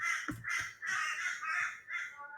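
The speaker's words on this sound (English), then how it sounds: "I get a little bit clumsy when I've got birds going crazy in the background" Crows cawing repeatedly in the background, a series of harsh drawn-out caws in uneven rhythm, moderately loud and outdoors-sounding, with no talk over them.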